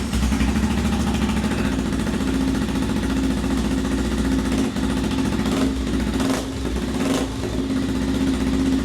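A motorcycle fitted with an old car's exhaust muffler idles steadily, a close, loud, low throbbing rumble that stays fairly even, with a few brief dips and blips in engine speed.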